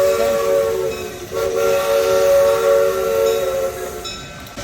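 Replica Shay steam locomotive, built in 1969 and running on 30-inch gauge track at an antique machinery museum, departs a station, sounding a sustained multi-tone steam whistle in two long blasts over a hissing, rumbling background.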